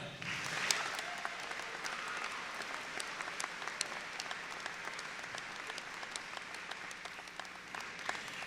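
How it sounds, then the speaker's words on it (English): A graduation audience gives sustained applause for teachers and staff during a 2023 student speaker address, heard as steady, fairly faint, dense clapping from a large crowd that continues evenly throughout. "Let's give a round of applause for them."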